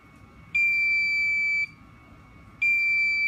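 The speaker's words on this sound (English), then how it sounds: "You hear the beeps." Two long, loud electronic beeps from a 555 timer circuit, each lasting about a second, separated by a short pause; piercing and close, with no talking.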